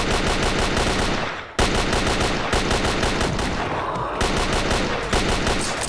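Rapid automatic gunfire from the Radiophobia 3 video game, loud and dense continuous bursts with only a brief gap, nearly filling the whole stretch.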